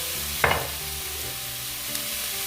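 Wild garlic flowers and shrimp stir-fried in a pan with oyster sauce produce a steady sizzle. A sharp scrape of the spatula comes early and a fainter one later, with no voices.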